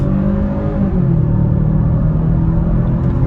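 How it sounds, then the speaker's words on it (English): A 2023 Kia Stinger GT-Line accelerating onto a highway fills the cabin with a loud, steady low engine rumble and droning road noise throughout. "it looks like a good opportunity to try an acceleration onto this highway, so on the gas."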